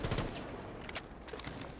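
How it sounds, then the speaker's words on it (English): Gunfire during a Rainbow Six Siege match, a dense rapid volley of automatic shots in quick succession, moderately loud and compressed, with no speech over it. "Gunshots go either way, but no one prevails just yet."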